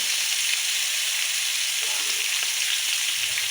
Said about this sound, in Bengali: চিন্তা করলাম কয়েক পিস মাছ ভাজি করি